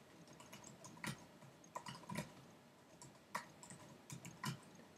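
A name and email address are typed on a computer keyboard, heard as soft, irregular clicks and taps at close range in a quiet room. Each keystroke sounds faint and brief.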